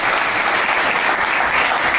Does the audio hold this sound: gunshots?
no